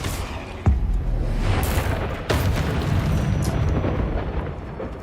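Confringo fire spell explosions from Hogwarts Legacy, a sharp blast followed by a second burst, with rumbling roar and crackle continuing loudly throughout, no talking.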